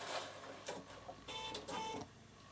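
A Bernina sewing machine stitches through leather in short mechanical bursts, a close, moderately quiet whirring that stops and starts with brief pauses between runs.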